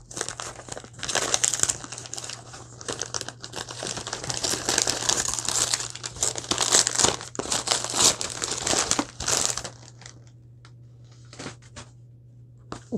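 Wrapping crinkles and crackles loudly close up as a small gift package is opened, in busy bursts for about nine seconds before trailing off into sparse, quieter rustles.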